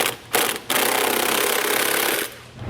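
A powered wrench with an 18mm socket drives a body mount bolt tight on a 2014 Ram 1500 during a nerf bar installation. A short rattling burst is followed by a longer, loud, steady hammering run nearby, with no talking.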